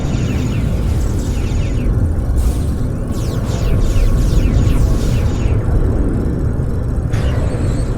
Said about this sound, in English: Anti-proton weapons!